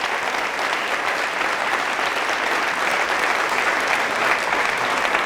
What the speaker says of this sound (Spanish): ¿Cuántos aplausos al Señor?